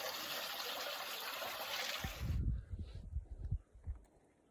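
Water running through a creek among oaks in the Arizona wilderness, a steady broad rush for about two seconds that cuts off into softer low gurgling and splashing trickles.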